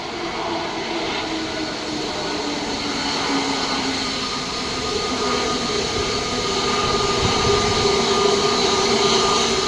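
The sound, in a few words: Air India airplane taxiing for takeoff at Mumbai airport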